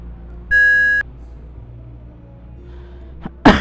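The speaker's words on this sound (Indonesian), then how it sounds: "Gua terkoneksi dulu sama intercom" A single sustained electronic beep lasts about half a second over low background hum, followed later by a faint tone and a sharp click.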